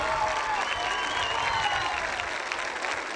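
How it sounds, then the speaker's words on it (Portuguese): An audience applauds a live music group at the close of a song, soft even clapping at a distance with faint lingering instrumental tones underneath. "uma salva de palmas"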